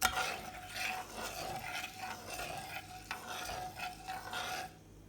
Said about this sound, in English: Then I will stir.